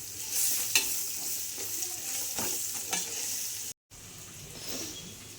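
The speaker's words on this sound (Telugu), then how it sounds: "ఇప్పుడు ఒక కప్పు ఆనియన్స్ అయితే బాగా వేగాలండి" Sliced onions fry in oil with turmeric in a pan, crackling steadily while a utensil stirs them in a few scraping strokes, with a short gap of silence near the end.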